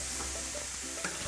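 Radish fry with nigella seeds sizzling gently in a pan, a soft steady crackle with a couple of brief stirring scrapes, no voices.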